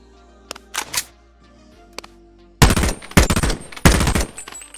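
Gunshots from a skeletonized M4A1 rifle in the VR game Boneworks: two faint early pops, then three loud, close bursts of rapid automatic fire separated by short gaps, with a thin, somewhat muffled character.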